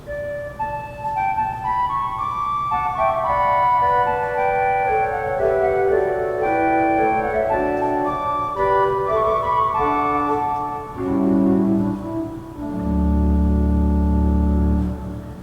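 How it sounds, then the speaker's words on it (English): A soft, breathy pipe organ wooden melodia flute stop, open at the top, plays a slow descending melody, ending on low sustained chords, with no voices. "This is a wooden flute that actually is open at the top, and it creates a nice, beautiful singing sound"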